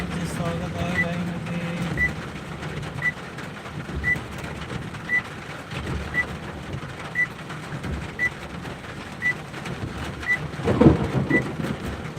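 Steady rain in Latur with a low rumble of thunder swelling near the end, a faint repeating beep in the background.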